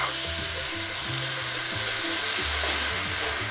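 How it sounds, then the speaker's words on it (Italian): Flour tipped all at once into melted butter in a pan, frying with a steady close sizzle and some stirring, continuous with no talk. "Il burro è ben sciolto, andiamo ad aggiungere adesso la farina,"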